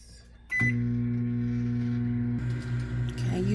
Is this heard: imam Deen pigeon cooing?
no